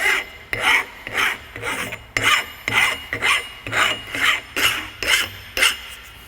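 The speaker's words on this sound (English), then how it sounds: "I'm going to go around it with this file and make sure that everything is nice and smooth" A metal file scrapes burrs off a Ford 8.8 differential surface in a rhythmic series of about a dozen rasping strokes, close and clear with no talking.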